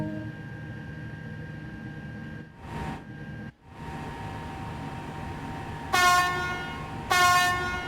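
A TGV high-speed train in a Train Sim World game at Marseille-Saint-Charles station, steady cab hum with a brief whoosh, then two loud horn blasts near the end.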